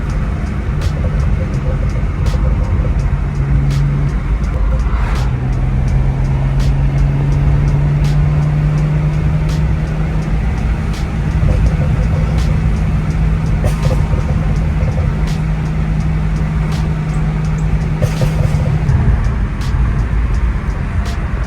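A BMW 335i driving on a road at an early-morning hour, its engine a steady loud drone with a sustained tone that rises briefly and holds, then drops near the end, over continuous road and tyre noise.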